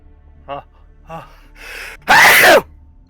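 A couple of short breathy catches lead into one loud, sharp sneeze near the end, close up.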